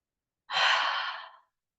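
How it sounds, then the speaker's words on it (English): One slow, deep breath drawn and released during a relaxation and balance exercise, soft and close, fading out after about a second with silence on either side. "take a few really beautiful deep breaths there"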